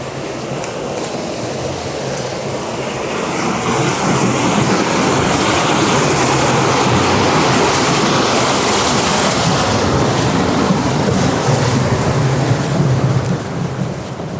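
A full, fast-flowing river in Llanrwst, Wales, rushes loudly and steadily, its broad roar filling the scene without pause and rising slightly after the first few seconds.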